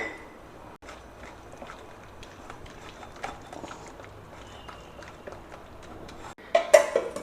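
A spoon scrapes and knocks against a container while chickpea dosa batter is stirred with salt, giving irregular taps and soft scraping at close range, ending in a louder clatter.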